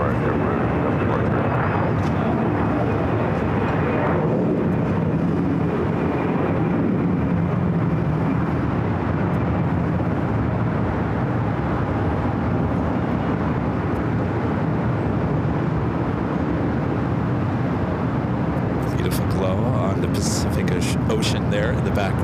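Jet airliners at LAX fill the air with a continuous, loud engine roar that holds steady throughout, with a brief brighter rush near the end.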